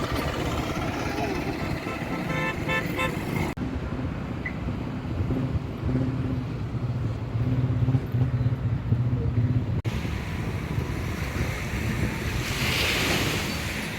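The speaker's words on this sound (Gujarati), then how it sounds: "માધવપુરના દરિયા કિનારે પહોંચી ગયા છે." Sea waves breaking on the shore at Madhavpur beach near Porbandar, with fishing boats offshore, a steady broad roar of surf with wind buffeting the microphone, loud and continuous throughout.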